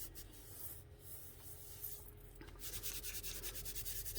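A sheet of packaging paper is rubbed by hand onto an inked Gelli plate, making a faint, close, continuous scratchy swishing that turns into quicker back-and-forth strokes near the end, with no voices.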